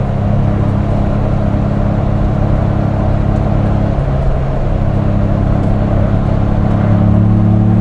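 A 2025 Ford Bronco Big Bend Sasquatch with the 7-speed manual hums with a steady, loud engine drone heard from inside the cabin, the pitch holding and then lifting slightly near the end.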